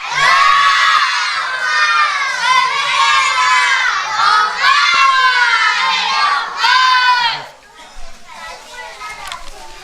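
A crowd of children at a religious celebration program shouts slogan responses in unison, several loud rhythmic chanted bursts with short pauses, ending in a quieter stretch.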